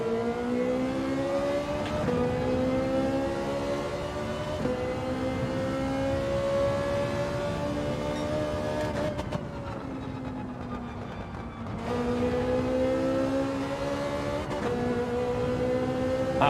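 McLaren race car in Gran Turismo 7 with its engine droning steadily through repeated rising gear pulls, pitch climbing and dropping at each shift, loud and continuous with no talk.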